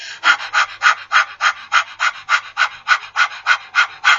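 Rapid rhythmic panting breaths from a person doing a Himsa Kriya yoga breathing exercise, about fourteen sharp, even huffs in quick succession, close and loud, with no speech.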